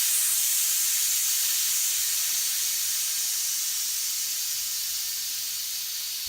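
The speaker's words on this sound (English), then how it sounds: "I'm going to remove pressure from it." Steady, loud hiss of steam escaping from a pressure cooker after cooking dalia (cracked wheat), a continuous high rush with no voices.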